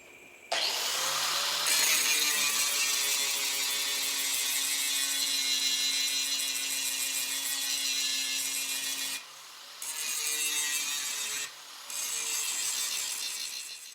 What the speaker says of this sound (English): grinding down the panel might take just as much time as you did with welding it